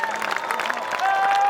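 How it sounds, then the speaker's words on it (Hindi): Brief burst of audience applause at a Hindi poetry gathering (kavi sammelan) after a poem is recited, dense clapping from a crowd that swells toward the end. "और जोरदार तालियों के साथ"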